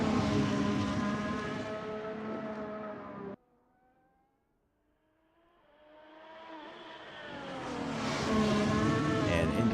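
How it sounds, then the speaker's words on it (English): A race car at the Spa circuit roars close by at full throttle, drops away abruptly into near silence, then builds again from far off into a loud, rising engine pass. "Alan Toast pushing as hard as he can through Puon, and he used all the track that he's bought and paid for here"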